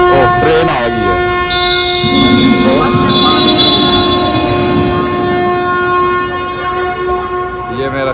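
A train sound effect played over the arena at a basketball match: a sustained, loud horn-like tone with rumbling under it, mixed with crowd noise and people talking.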